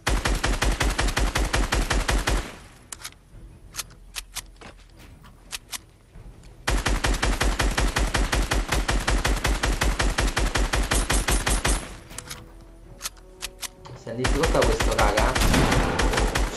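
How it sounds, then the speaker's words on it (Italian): Rapid automatic gunfire in Fortnite Chapter 2 comes in long loud sustained bursts, broken by pauses with a few single shots, then a final burst with a scraping sound layered over it. "qualcuno mi sta sparando là"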